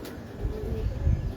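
A pigeon coos softly in low, throaty pulses at close range against a steady background hum, with no speech.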